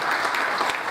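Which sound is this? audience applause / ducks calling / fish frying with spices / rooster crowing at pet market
audience applause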